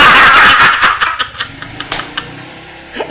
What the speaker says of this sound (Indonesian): Ada motor lewat untung ada motor.